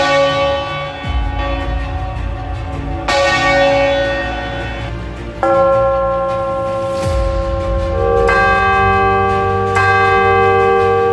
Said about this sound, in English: we have so many bells here of so many different types